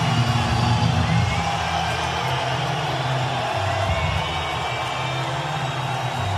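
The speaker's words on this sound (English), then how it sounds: "listen to this crowd." A large arena crowd roars and cheers steadily for lightweight fighter Nick Diaz at an MMA event, a dense, loud wash of voices and whoops sustained throughout.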